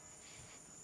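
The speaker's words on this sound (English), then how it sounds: "Got the crickets going here." Crickets chirp in a steady, faint, high-pitched drone that runs through the whole short moment with no pauses and no voices.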